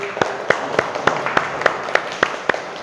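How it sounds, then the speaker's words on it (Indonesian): A classroom of third-grade pupils claps for group 1 in a loose rhythm of about ten distinct claps, fairly close and moderately loud, with faint voices underneath. "Oke, tepuk tangan untuk kelompok 1."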